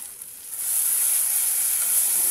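Spices with turmeric and salt frying in a pan, a bright, even hiss of sizzling that swells after the first half-second and holds steady, close and alone without talk.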